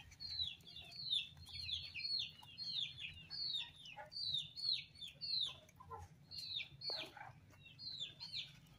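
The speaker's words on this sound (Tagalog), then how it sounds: "Ayan na yung mga sisiw natin." Chicks peeping in a farm setting, a continuous flock of high, rapid chirps repeating in quick overlapping clusters, moderately close over a low background hum.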